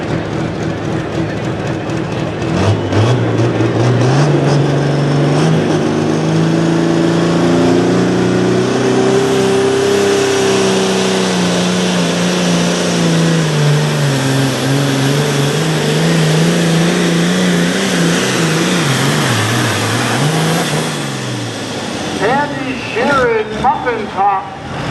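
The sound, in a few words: Ford-powered pulling tractor engine revving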